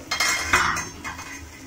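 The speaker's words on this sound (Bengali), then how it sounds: "এবার ঢাকনাটা খুলে দেখব।" Metal lid lifted off a cooking pot, a couple of quick metallic clanks and a scrape heard up close, with a brief soft sizzle afterward and no speech.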